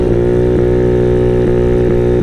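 A Honda Ruckus scooter, modified for around 70 mph, drones steadily and loudly while riding at speed on a 65 mph road, its harmonic engine note holding constant with brief dips, no talking.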